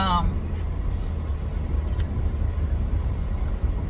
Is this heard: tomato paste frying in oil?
no